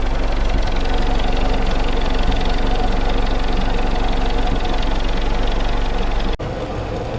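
A Willys CJ2a jeep engine runs steadily at idle with a loud, close, constant rumbling knock and vibration, undisturbed by talk.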